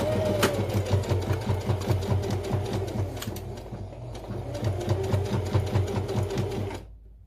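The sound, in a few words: sewing machine stitching a pouch connector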